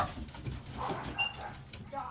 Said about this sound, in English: the dogs upstairs are barking, which causes Snippy to bark down here